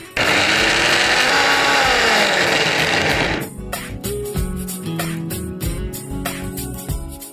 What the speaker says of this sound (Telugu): సో ఇది కూడా మిక్సీ పట్టేసుకోవాలి.